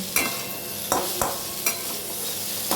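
Bitter gourd and pumpkin bori stirred in a pan with a little sugar, a soft sizzle under several distinct spatula scrapes spaced roughly half a second apart.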